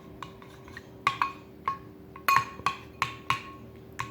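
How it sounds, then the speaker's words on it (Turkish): Slime mixture being stirred in a bowl, giving a string of sharp clinking and scraping knocks, roughly one every half second in the second half, close and fairly quiet with no talking. "Şimdi birazcık karıştırıyorum."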